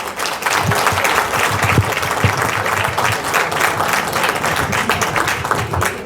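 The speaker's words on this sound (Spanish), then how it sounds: "Gracias por el aplauso." A large audience at a dinner event claps steadily and fairly loudly for several seconds, welcoming a guest speaker, a dense wash of applause with no voices.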